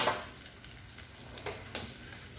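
Flour being stirred into hot bacon grease in a pan to start a roux for creamed chipped beef, soft sizzling with a few scraping stirring strokes, close and steady, no voices.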